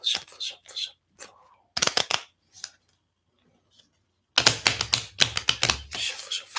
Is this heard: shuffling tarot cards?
yes